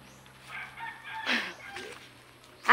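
Chickens on a farm, with a rooster's drawn-out crow and a few clucks rising over quiet ambience at moderate distance, fairly faint overall.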